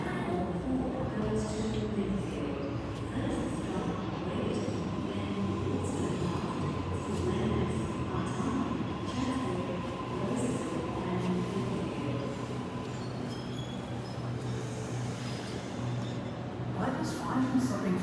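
A train pulls into a platform at North Sydney station, a steady rumbling roar of wheels and carriages filling the whole stretch at moderate level, with faint voices nearby.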